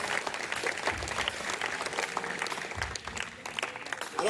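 Applause from a congregation at a French-speaking church service, steady clapping from a crowd that rises and holds for several seconds, fairly close and loud, with no talk over it.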